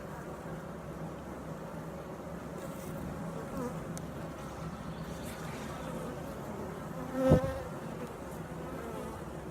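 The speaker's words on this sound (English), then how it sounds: "Got a nice group of bees here. Very pleased with them." Steady insect buzzing from many bees, a continuous drone close by, with a brief louder thump near the end.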